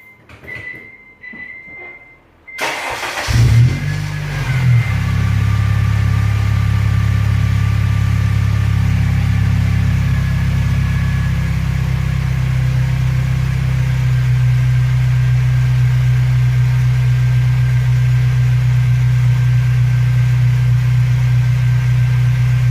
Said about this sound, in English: So I'm going to start the car up. It's going to get kind of loud